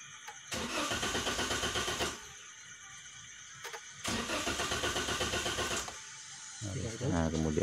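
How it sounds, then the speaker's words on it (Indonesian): A car engine is cranked with the starter in two long, loud, rattling bursts of about one and a half seconds each. A softer mechanical hum runs between them, and a tonal whir rises at the end. "Terus kita coba starter,"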